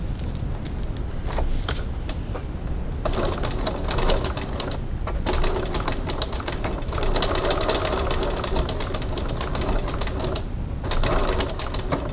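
A sewing machine stitches through fabric in fast, rhythmic runs with brief pauses between them, the motor's rapid needle clatter close and steady; there is no talking.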